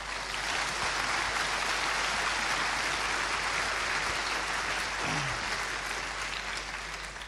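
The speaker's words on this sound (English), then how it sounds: "Please give a round of applause for Thorstein Leemhuis." Audience applause at a Linux kernel talk at an open-source conference, a steady dense wash of clapping sustained throughout at an even level, tapering slightly at the end.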